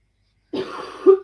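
A single harsh cough bursts out nearby after a stretch of silence, ending with a brief throaty catch, heard alone without talk.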